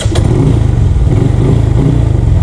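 A Kawasaki motorcycle engine runs loud and close with a steady, throbbing idle, preceded by a brief click at the very start.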